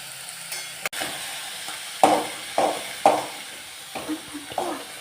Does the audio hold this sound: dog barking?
no